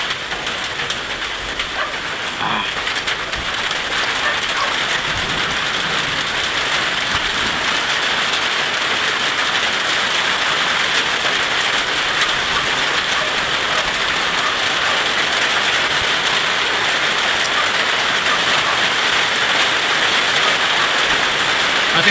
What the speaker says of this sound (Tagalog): Pasensya na mga idol dahil malakas yung ulan.